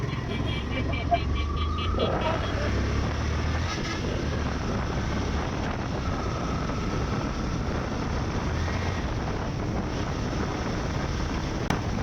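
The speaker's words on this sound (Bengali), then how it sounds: "সো আমি হাইওয়েতে বাইকটা রাইড করছি" A Yamaha FZS V2 motorcycle rides along a highway, a steady engine drone mixed with heavy wind rushing over the microphone, with someone talking over it.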